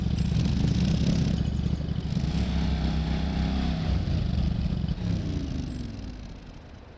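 A riding lawn mower engine in Lawn Mowing Simulator runs at a steady, loud low drone, easing slightly in pitch midway and tapering near the end.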